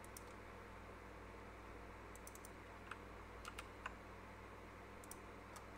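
Quiet, close typing on a computer keyboard, a scattering of light key clicks in short bursts over a steady low hum of a computer fan, with no voices.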